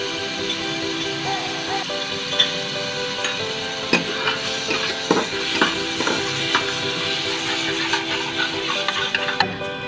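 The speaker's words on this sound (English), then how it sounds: "Now I am adding ginger garlic paste." Ginger garlic paste frying with onions in a pan: a steady moderate sizzle broken by irregular clicks and scrapes of stirring, heard close with no one talking.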